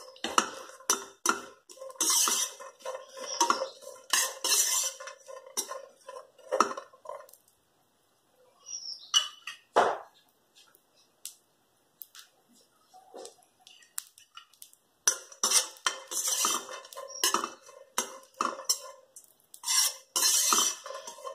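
Dry fruit barfi ingredients roasting in a little ghee in a pan, stirred with a utensil: bursts of scraping and clinking against the pan, a quiet pause in the middle, then more steady stirring.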